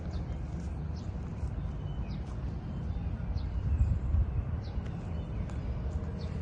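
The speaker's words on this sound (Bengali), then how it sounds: "ন্যাচারাল মিউজিক এখানে দাঁড়িয়ে গিয়েছে আমাদের পাখির ডাক।" Birds call and chirp in a park beside a lake in Bangkok, a scatter of short, faint, high calls spread through the clip over a steady low outdoor rumble.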